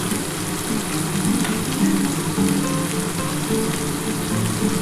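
A pan sizzles steadily and loudly as water and turmeric go in, while pomfret is cooked in a spicy mustard-poppy curry, with a continuous hiss and crackle and no talk.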